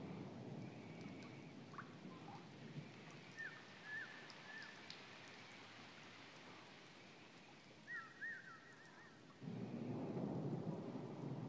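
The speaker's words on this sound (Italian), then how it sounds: "la pioggia fa danno" Rain and rumbling thunder in the game Sky: Children of the Light, a steady faint patter with low thunder rolls and chime-like tones, the rain swelling louder near the end.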